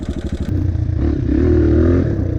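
A dirt bike engine putters in a quick thumping idle, then revs up into a steady loud drone as the rider shifts down to second gear among fallen trees on a wooded trail, close and alone.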